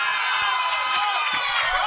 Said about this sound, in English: I'm sure you all heard that large cheer.